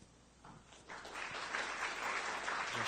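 Audience applause at the close of a talk on cloud computing security and compliance at the CAOS 2016 event, swelling from faint to a steady moderate wash of clapping that keeps going.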